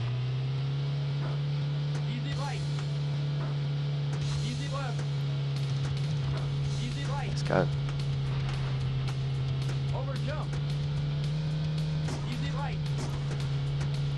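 Car engine in the PC racing game Sega Rally Championship, a steady low droning hum held at constant pitch throughout, with brief sharper sounds and someone speaking intermittently over it.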